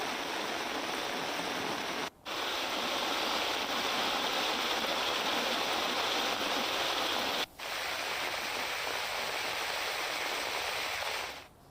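Floodwater flows through the Bhabhar Lathi market streets in Vav-Tharad after heavy rain, a dense continuous rushing gush held steady and close, with two very brief cuts in between.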